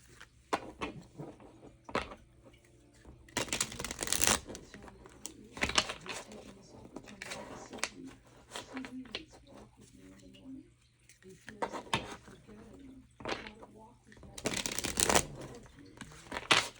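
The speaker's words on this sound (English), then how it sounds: "Let me just give these a quick shuffle." Tarot cards are riffled and shuffled in two short, crisp bursts close to the microphone, with quieter card handling and a person talking softly in between.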